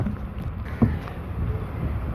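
Small country boat riding a fast current in rain, a soft continuous wash of water and wind buffeting the microphone, with a brief knock near the middle.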